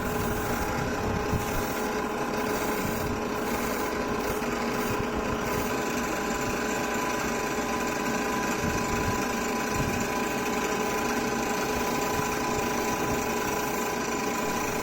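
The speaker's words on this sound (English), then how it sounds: "now I am airbrushing gloss black so that it will serve as a base for the" Steady hiss of an airbrush spraying gloss black paint onto the disc brakes of a Tamiya Toyota Cerumo Exiv JTCC model car, with a continuous airy rush and a faint compressor hum throughout, no talking.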